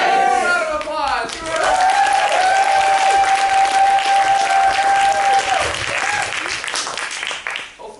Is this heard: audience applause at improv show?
yes